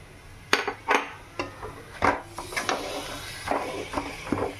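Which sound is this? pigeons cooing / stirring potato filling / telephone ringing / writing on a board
stirring potato filling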